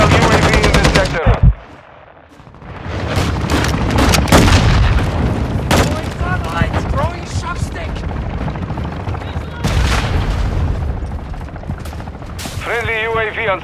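Game gunfire from Call of Duty Invasion on the Taraq map: dense bursts of automatic rifle and machine-gun fire with booming explosions, loud and nearly continuous, a brief lull early on, with radio-style voice callouts over the battle.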